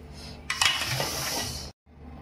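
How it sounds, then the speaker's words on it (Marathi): Chicken biryani gravy poured into a pot of rice mixed with cashews and almonds, a few metallic clinks of a pot and spoon, then a thick wet splattering pour lasting over a second before a brief silence. "आता ग्रेव्ही टाकते मी. ही अशी ग्रेव्ही टाकायची."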